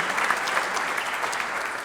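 A round of audience applause at a small business awards luncheon, continuous even clapping from a roomful of people, moderately loud and unbroken from start to finish.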